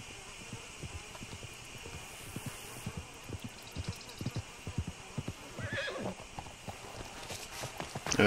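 A horse whinnies amid steady clip-clop of hooves in Red Dead Redemption 2, with rhythmic footfalls and a background hum.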